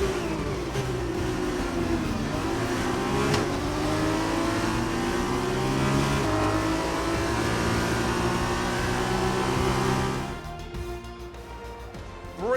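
Formula 2 race car engine from the F2 2020 video game at the Belgian round, a loud sustained high-revving whine with rising and falling gear pitches for about ten seconds before it quietens.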